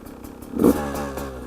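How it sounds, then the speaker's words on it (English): A new 2019 Beta 200RR dirt bike engine runs close by, a steady mechanical drone that swells into a brief rev near the middle before settling back to a sustained idle. "New 2019 Beta 200RR."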